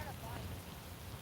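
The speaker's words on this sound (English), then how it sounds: "I'm thinking it might be raining for the next few hours" Rain falls during a fishing trip outdoors, giving a faint, even hiss of drops on surfaces with no break and no clear voices.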